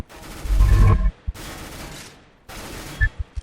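Bursts of rapid gunfire in Counter-Strike: Global Offensive, three volleys separated by short gaps, with a few sharp impact thuds near the end as bullets hit a car.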